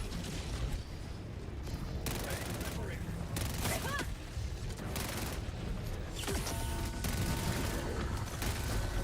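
An automated sentry turret in the Helldivers 2 video game fires repeated rapid bursts of gunfire, several separate volleys mixed with mechanical clanks over constant battle noise.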